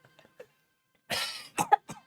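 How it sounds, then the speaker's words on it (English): A single harsh, close cough bursts out and is followed by two or three shorter coughing fits. It is a person coughing on purpose during a spoken fantasy story. "I cough in his face."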